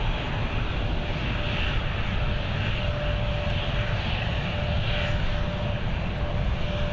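An airliner taking off at Dublin Airport on a sunny day, a steady, broad engine roar that stays loud and constant throughout, heard from a distance without voices.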